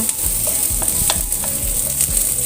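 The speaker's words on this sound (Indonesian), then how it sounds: "Tumis sampai bawang merah dan bawang putihnya itu benar-benar harum." Shallots and garlic sauté in a pan for Indonesian sayur lodeh, a steady close sizzle with regular scraping stirs about every half second, with no voices.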